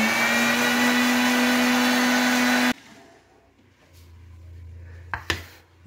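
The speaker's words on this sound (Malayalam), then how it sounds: "ഇത് നന്നായിട്ടൊന്ന് പീറ്റിയണം." An electric mixer beats ingredients with a loud, steady whirring drone that cuts off abruptly after a few seconds, leaving a low hum and a couple of sharp clinks.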